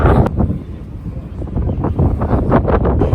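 Strong wind near the Eiffel Tower in Paris buffets the microphone in rough, continuous low gusts, roaring loudly and drowning out everything else.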